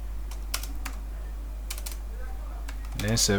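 Quick, light keystrokes come from a computer keyboard in irregular bursts, with a voice speaking briefly near the end.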